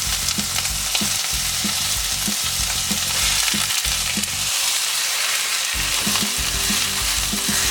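Boiled onions and mashed potatoes frying in a pan for white potato palya, a continuous loud sizzle with regular scraping stirs and a brief quieter stretch, no voices.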